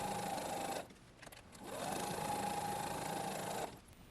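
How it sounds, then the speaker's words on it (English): Sewing machine stitching pieced quilt blocks for a tropical fish art quilt, two steady whirring runs of stitching separated by a short pause, close and fairly quiet with no talk. "just turn the whole set around and sew on the other side"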